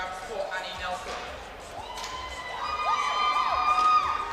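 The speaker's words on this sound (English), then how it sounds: "you can hear cheers in the crowd there" Crowd at a powerlifting meet cheering and shouting after a lift, rising in volume toward the end, with several high voices whooping over a steady hall murmur.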